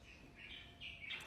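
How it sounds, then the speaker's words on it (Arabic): A free wild sparrow chirps outdoors at breakfast in Morocco: a few thin, high chirps at moderate distance, fairly faint over quiet background hiss, with no voices. "سامعين العصفور؟ هذا عصفور مو محبوس، هذا كذا طليق."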